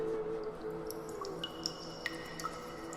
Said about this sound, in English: every drip from the cave lime icicles,